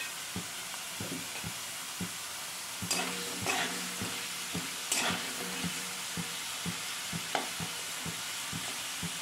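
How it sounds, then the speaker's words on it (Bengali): Potatoes and pumpkin frying in a pan, a constant soft sizzle under repeated scraping strokes of a spatula stirring at an irregular rhythm, close by, with no talking. "আলুটা ঢাকা দিয়ে দিয়ে ভেজে নেব।"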